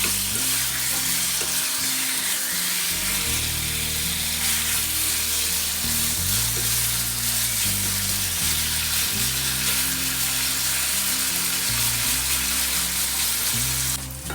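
Chicken pieces sizzling and frying in hot oil for chilli chicken, a loud, continuous crackling hiss with occasional stirring, close and steady throughout with no talk.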